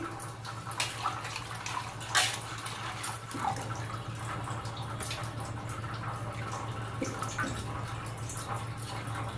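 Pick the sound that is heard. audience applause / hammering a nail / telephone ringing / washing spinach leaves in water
washing spinach leaves in water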